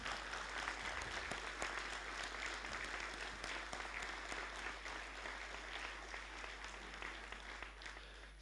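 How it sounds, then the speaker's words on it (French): Steady applause from an audience at a municipal council installation session, a continuous patter of many hands clapping at low volume that fades slightly toward the end. "Je pense qu'on peut applaudir cette performance dans notre ville."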